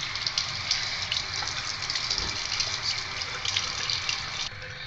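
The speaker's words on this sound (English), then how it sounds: "you're gonna rinse it under the hot water" Hot water runs steadily from a tap into a sink, a continuous splashing gush heard up close and fairly quiet.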